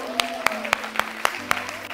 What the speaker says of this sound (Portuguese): Vamos aplaudir a vida da Dona Rosa